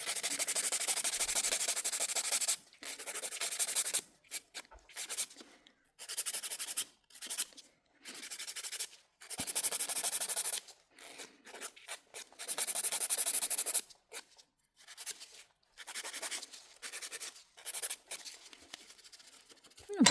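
A nail file rasps across fingernails during a manicure, shaping them into an oval, in close, repeated bursts of dry scraping strokes separated by short pauses.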